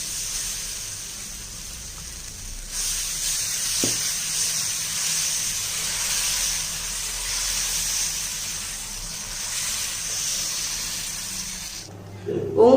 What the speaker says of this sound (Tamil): இப்போ நான் உங்களுக்கு தோசை சுட்டு காமிக்கிறேன்.